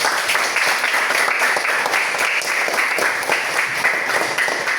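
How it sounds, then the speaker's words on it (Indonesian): An audience at a school counseling talk claps for themselves, a continuous, even burst of many hands clapping that carries at moderate loudness from start to finish. "Tepuk tangan untuk diri sendiri"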